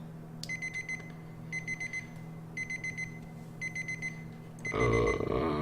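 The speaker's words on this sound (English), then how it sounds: "Stupid alarms." An alarm in Grand Theft Auto IV rings in repeated bursts of high electronic beeping, four evenly spaced pulses of trilled tones over a low background hum, before a louder noisy rush cuts in at the end.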